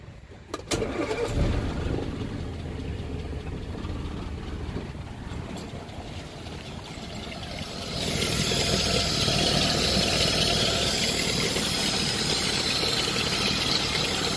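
A Land Rover engine cranks and fires after a valve adjustment, then settles into a rough, steady idle nearby that grows louder partway through.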